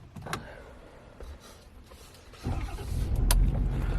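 A Ford F250 with a deleted 6.7L Powerstroke diesel cranks and fires up after an oil leak repair, its low rumble rising sharply midway and settling into a loud, steady idle close by.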